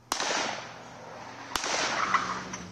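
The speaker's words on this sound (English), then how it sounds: "you can hear two shots," Two sharp gunshots ring out on 109th Avenue in northeast Portland as a white sedan chases another car, each a sudden loud crack with a short ringing tail, spaced about one and a half seconds apart amid faint background noise.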